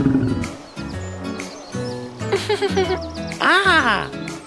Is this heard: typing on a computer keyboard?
no